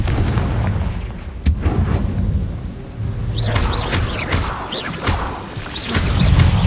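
Blasting-spell explosions from the Hogwarts Legacy video game, a sharp booming impact followed by rolling crashes and whooshing magical effects amid busy battle noise.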